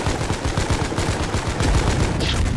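Gunfire from the Foxhole war game crackles in rapid, dense bursts, loud and continuous like sustained rifle and machine-gun fire, with no voices.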